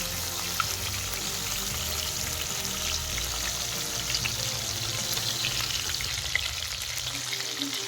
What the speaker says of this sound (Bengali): আমি অপর পিঠটাও এইভাবেই ভেজে নেব।